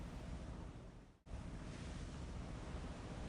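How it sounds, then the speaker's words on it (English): Loud roaring sea waves wash steadily in Umineko, the surf briefly dipping to near silence for an instant before surging back at full strength. "The world of cheery sounds immediately swallowed up by the roar of the sea."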